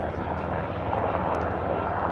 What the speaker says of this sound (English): So there's your Nighthawk making his way down Route 1 to Anacostia, which is where they base those helicopters.